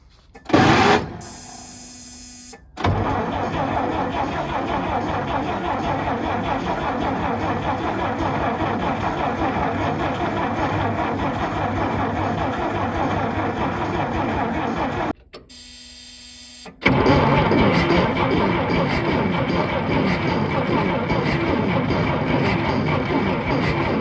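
An antique truck engine is cranked with fuel running straight to the carburetor, producing long bouts of loud, rapid, rhythmic mechanical churning broken by short pauses.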